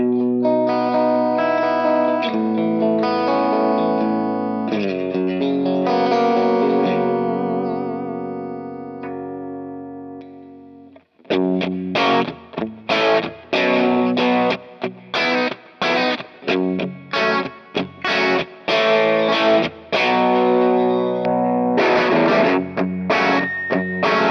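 Electric guitar through a Kemper profile of a Dr Z DB4 amp rings out in sustained, overdriven chords, then shifts to tight, choppy staccato riffing with short gaps between hits, loud and close throughout.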